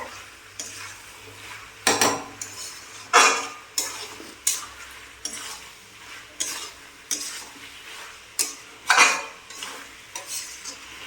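Chicken with fried potatoes being stirred in a pan for chicken kosha, with rhythmic loud scraping and clattering strokes of a utensil against metal over a low sizzle, close up.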